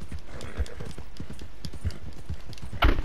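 Donkey hooves clip-clopping in a steady rhythmic gait while riding in Red Dead Redemption 2, close and clear, with a louder burst of noise near the end.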